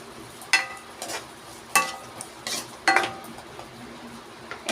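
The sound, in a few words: stirring paneer in a cooking pan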